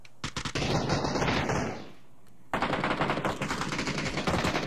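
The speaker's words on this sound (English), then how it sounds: "I think they're just shooting at friendlies now." Automatic gunfire in an online shooter video game, rapid rattling bursts that stop briefly for a short lull and then resume in a dense, sustained volley, loud and close.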